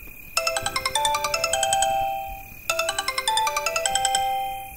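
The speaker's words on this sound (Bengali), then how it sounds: "রাস্তায় পা রাখতেই পকেটে থাকা ফোনটা সশব্দে বেজে ওঠে।" A mobile phone rings from inside a pocket with a bright, tinkling ringtone melody, played in two bursts separated by a short pause, fairly clear over faint background noise.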